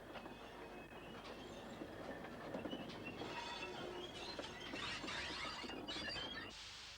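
Great Western steam locomotive number 670, running London Transport works trains, rolls past with a rumble of wagons, rhythmic clickety-clack of wheels on rail joints and squealing wheels, steady and moderately close with no voices.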